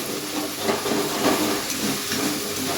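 A hot pan of food on a gas stove gives a steady, loud sizzling hiss after water is poured in, continuing evenly without voices.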